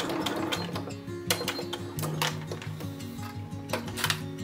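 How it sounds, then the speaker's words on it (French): A sewing machine stitches fabric for a slanted tablet stand and matching pouch, running in a steady, close mechanical whir with rhythmic needle ticking and brief changes in pace. "Et voilà, je tourne et je continue à coudre comme ça."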